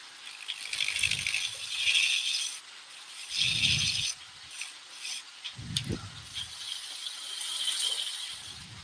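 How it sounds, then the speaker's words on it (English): Hand gouge carving Oregon timber, producing rough scraping and rasping strokes in short bursts with pauses between, close and moderately quiet. "Have to use the edge of a gouge just to get in there, just to decrease that a little bit in there."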